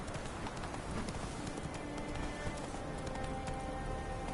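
Roach, Geralt's horse in The Witcher 3, gallops with rapid, rhythmic clip-clop hoofbeats over continuous ambient game noise, steady and fairly close throughout.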